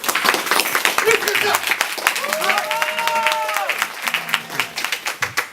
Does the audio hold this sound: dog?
no